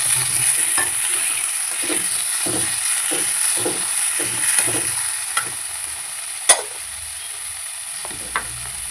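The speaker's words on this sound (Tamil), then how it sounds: "நல்லா வெங்காயம் வதங்கின இந்த ஸ்டேஜில் தக்காளி ஒன்று" Tomato added to sautéed onions frying in a pan, a steady sizzle with rhythmic spoon stirring and scraping, then a couple of sharp clinks against the pan.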